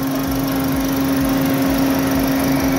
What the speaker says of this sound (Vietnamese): Tôi đang nổ máy chiếc xe này đây